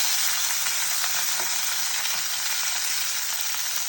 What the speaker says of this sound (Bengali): হালকা একটু সজনে ডাঁটাটা ফ্রাই করে নিতে হবে